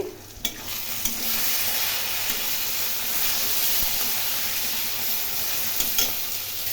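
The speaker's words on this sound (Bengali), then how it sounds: "আলুগুলো ভেজে নিচ্ছি পেঁয়াজ ভেজে নিচ্ছি" Potatoes and onions fry in hot oil in a kadai for a mutton curry, giving a steady, dense, close sizzle that holds evenly throughout, broken by a couple of faint utensil knocks near the start and end; no one speaks.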